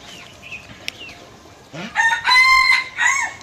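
A young adult rooster crows loudly and close by in the latter half, a long rising call after quieter clucks and background farmyard sounds.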